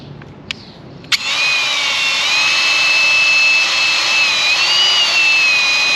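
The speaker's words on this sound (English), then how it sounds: "let's get to sanding" A power sander kicks in after a couple of clicks and whirs steadily at high pitch on an oxidized car headlight, loud and close, with slight shifts in tone as it works.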